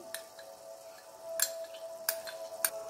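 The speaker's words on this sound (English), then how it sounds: "Mix well. Cook for 2 to 3 minutes." A spoon stirring thickening gravy with fresh cream in a cooking pan, giving several sharp, separate clinks against the metal over a faint steady hum, close and unhurried.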